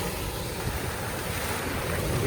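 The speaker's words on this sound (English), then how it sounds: "You can see how the water's bashing up against it, eating away at it." Water waves bash steadily against an eroding sand dune at a river mouth, a continuous broadband wash with wind buffeting the microphone throughout and no talking.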